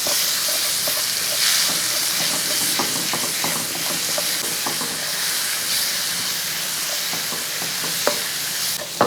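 Fish masala frying in a pan, Kerala style: a steady sizzle and hiss with scraping strokes of stirring and a few sharp clicks of the utensil against the pan, close and loud, with no talking.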